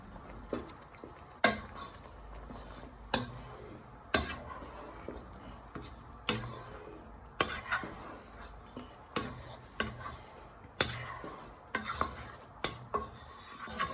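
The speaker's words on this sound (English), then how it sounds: "Next step is to add in your gravy to your pan. And you want to give it a little bit of a stir." A spoon stirs gravy into a sausage casserole in a pan, with repeated scraping knocks against the sides at an uneven rhythm, close but fairly quiet, with a soft sizzle underneath and no voices.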